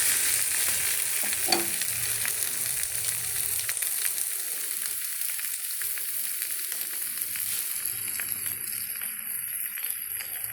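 Omelette with snake gourd, onion and coconut sizzles steadily in a pan, with dosa batter poured around its edge. The frying hiss stays loud and even for the full length, with a few faint scrapes and no voices.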